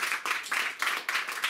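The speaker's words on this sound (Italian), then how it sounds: "fatevi un applauso" An audience at an evening gathering bursts into applause in quick uneven waves of clapping, fairly close and without talk over it.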